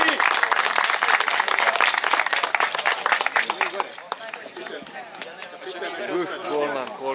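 A crowd applauds at a football medal ceremony for the 2023 Trofej Beograda final, loud dense clapping that fades after a few seconds into chatter and cheering voices.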